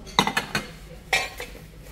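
Ceramic dishes being handled in a Noz discount store, with a few sharp, close clinks of crockery knocking together in quick succession, then a pause and a couple more clinks.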